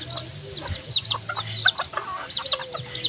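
Bantam chickens, pure white native birds, cluck in a quick, scattered series of short calls. The calls are fairly close, with faint farmyard ambience behind them.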